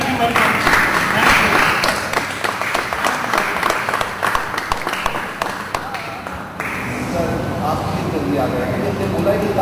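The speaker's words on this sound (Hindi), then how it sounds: "हमारे मेहमान के लिए जोरदार तालियां बजाइए" Studio audience on a Hindi comedy show applauding guests, dense continuous clapping close and loud across the whole stretch, with voices talking over it.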